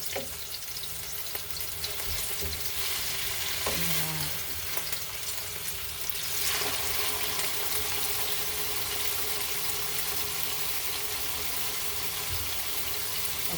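Skipjack tuna searing with garlic in hot oil, giving a loud, dense, continuous crackle and spatter of popping oil that holds steady throughout, with a few faint clinks; no one speaks.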